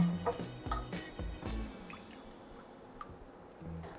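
Vodka is poured for a lychee martini, giving short, close liquid drips and splashes near the start that soon fade into quiet room tone.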